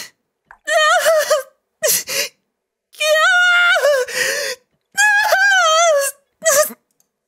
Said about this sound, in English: all that could be heard were the sounds of Ayase's labored breathing and the metal groans of the chair she sat on.